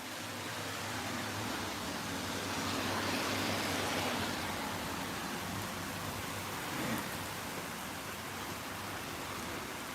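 Steady, hissing rain pours continuously, a dense wash of noise with a faint low rumble underneath and no voices.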